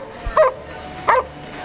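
An Old English Sheepdog at an all-breed kennel club dog show gives two short, sharp barks about two-thirds of a second apart, close and moderately loud against faint background hum.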